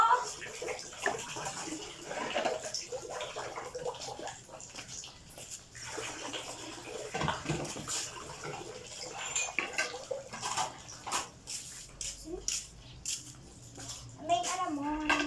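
Plates being washed at a sink, with running water splashing and dishes and cutlery clinking near and fairly quiet while people, including a child, talk over it.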